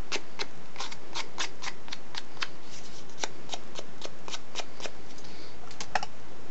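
Scissor blades run back and forth across a piece of card to distress its fibres, producing a rapid, regular series of sharp rasping scrapes, close and fairly loud, with no talking.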